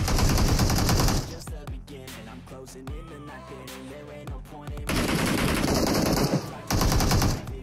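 Bursts of UZI submachine gun fire in an online battle-royale style video game, loud rapid automatic volleys at the start and again near the end, with a quieter stretch of game sounds and effects between them.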